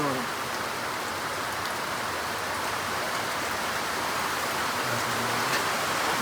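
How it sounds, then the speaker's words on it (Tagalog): Heavy rain pours down in a dense, unbroken hiss near Tacadang in the mountains, loud and close, drumming steadily on surfaces for the whole stretch. "Ang lakas ng ulan."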